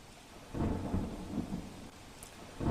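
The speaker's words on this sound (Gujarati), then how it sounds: "રાત્રે ગાજવીજ સાથે શહેરમાં આવ્યો વરસાદ।" Thunder rumbles low and heavy through a night rainstorm over a city during the season's first rain, long rolling peaks swelling and fading with steady rain beneath, no voices.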